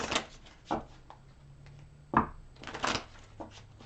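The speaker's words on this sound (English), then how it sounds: "Let me take out more cards." Tarot cards riffled and slapped down in quick bursts, close and crisp, with short pauses between handfuls.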